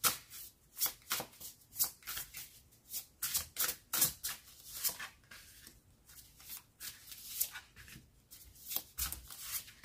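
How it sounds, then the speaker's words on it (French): Tarot cards being shuffled by hand, a steady run of riffling and sliding bursts, close and crisp, continuing for several seconds without talk. "Donc là, je vais faire le dernier tirage."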